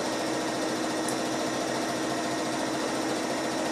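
A sewing machine stitches a quarter-inch quilting seam with a steady, fast mechanical whir and rapid rhythmic needle clatter, close and continuous throughout.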